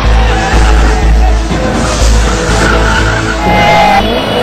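Around 5000 motorbikes performing stunts on the main circle at India Gate, a loud, continuous roar of revving engines with tyre squeal and a steady throbbing pulse, crowded and close.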